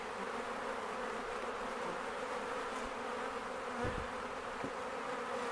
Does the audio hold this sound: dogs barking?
no